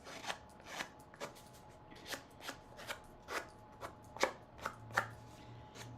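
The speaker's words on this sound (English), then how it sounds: "We are going to rough up the edges with our scissors." Scissors roughing up the edges of paper for a garden-themed fold card, about a dozen short brisk scraping strokes in an uneven rhythm, close and fairly quiet, with no talk.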